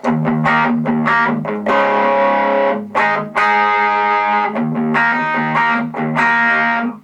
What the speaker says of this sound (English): I use it to boost overdrive pedals into more natural sounding distortion.